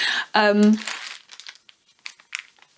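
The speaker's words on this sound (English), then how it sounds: "Here's my plastic bag full of all the ends." Plastic bag stuffed with leftover knitting yarn ends crinkles loudly up close, a burst of rustling and crackling that overlaps someone talking, followed by quieter scattered rustles.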